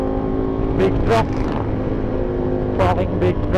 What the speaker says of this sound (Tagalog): Big truck.